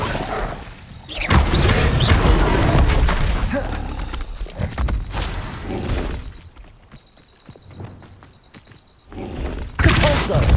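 Incendio fire spell in Hogwarts Legacy: a loud whooshing blast with crackling, breaking impacts, fading into quieter rumble before another burst at the end.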